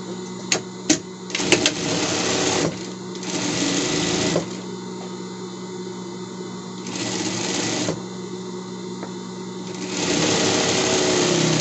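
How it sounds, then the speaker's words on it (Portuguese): An overlock sewing machine finishes the seams of a fabric pet bed, running in several long continuous bursts with brief pauses between them, loud and close, preceded by a few sharp clicks. "Vou dar acabamento na overlock"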